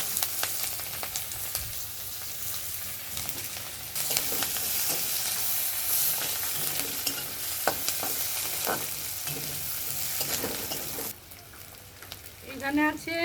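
Chopped onion sizzles in oil left over from frying fish, a continuous close hiss with occasional stirring scrapes, briefly quieter near the end before sharp spatters.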